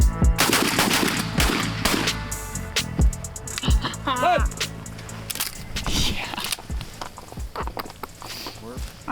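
Several shotgun blasts ring out during a duck hunt in Montana, sharp loud reports spaced irregularly across the span, with hunters talking and calling out between the shots outdoors.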